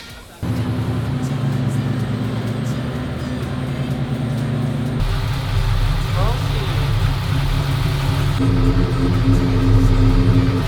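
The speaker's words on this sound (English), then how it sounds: "Trying to figure out why the idle is so high," A car engine idles steadily and loudly at a raised pitch from an abnormally high idle, a constant close drone that shifts slightly partway through, with some voices mixed in.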